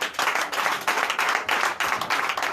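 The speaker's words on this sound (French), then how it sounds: "Donnez l'acclamation à Jésus." A church congregation at a Sunday service in Comè, Benin, claps in acclamation to Jesus: crowded bursts of clapping in a quick, regular rhythm, fairly loud and close, with no clear talking.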